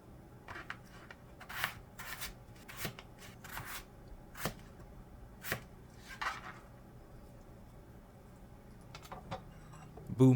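A knife chops carrot and potato into chunks on a cutting board for Japanese lamb curry, giving a dozen or so sharp, irregular knocks, close and fairly quiet, with no talk.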